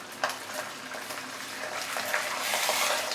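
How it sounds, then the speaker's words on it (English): Fish pan frying in hot oil, a steady close crackling sizzle with occasional sharper pops and stirring scrapes, no talk. "pan frying."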